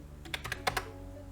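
Quiet typing on a computer keyboard, a short burst of about seven light key clicks in an uneven rhythm, heard close and alone.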